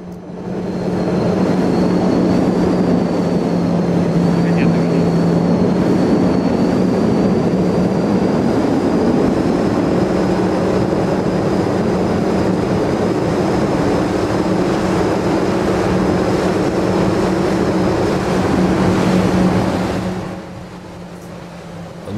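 Small Suzuki and Yamaha outboard motors, including a Suzuki DT15A, Suzuki DT9.9A and Yamaha 9.9 FMHS, race on boats with a steady, loud, droning whine that holds for about twenty seconds before dropping away.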